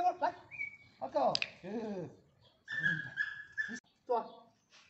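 A small, timid Belgian Malinois whimpers and yips in short, high, wavering cries close by, mixed with a person talking and coaxing it.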